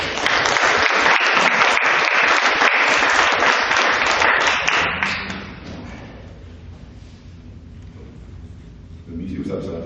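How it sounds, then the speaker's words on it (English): An audience at a fundraising concert in a church gives strong, steady applause for about five seconds, then it dies away into quieter room murmur before a voice returns near the end. "So give them a big round of applause."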